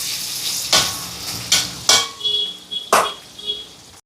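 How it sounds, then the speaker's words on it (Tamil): Onions and green chilies sautéing in a pan, a soft steady sizzle broken by several sharp scraping stirs of a spoon against the pan. "இதெல்லாம் வதங்கட்டும்"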